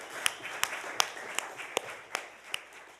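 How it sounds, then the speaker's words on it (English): Congregation applause at a Unitarian church Sunday service, a soft, sparse patter of clapping with a few distinct sharper claps, fairly quiet and distant. "Let's give them all a round of applause."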